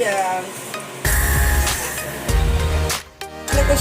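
Green chili, cumin and turmeric paste sautéing in a pan, a loud steady sizzle broken by scraping stirs, with a brief dip in the frying noise near the end before it surges back.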